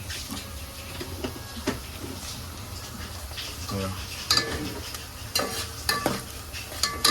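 Crab curry mixture with black river crabs and a little kokum being stirred in a pan, with soft scraping and clinking of a spoon against metal over a low sizzle, sharper knocks toward the end.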